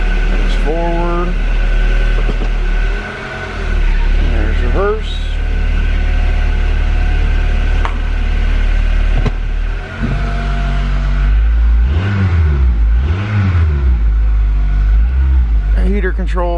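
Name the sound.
2006 Acura RSX shifting into gear and driving off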